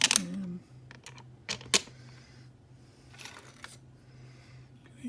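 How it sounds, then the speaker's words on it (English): Metal screws clink and rattle as they are handled and dropped back into an original SNES power supply casing, with a few sharp close taps spread across a quiet background. "Put the screws back in."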